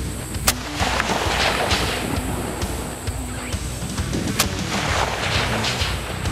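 Outdoor rifle fire at a target set at 300, with two sharp loud shots standing out over a busy background of wind and distant noise, no speech.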